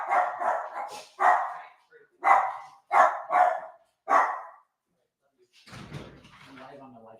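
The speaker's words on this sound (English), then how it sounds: "my dogs are going crazy" Several dogs bark in loud, repeated bursts close by, set off by a neighbor's door shutting across the street, then fall quiet before some faint rustling and noise.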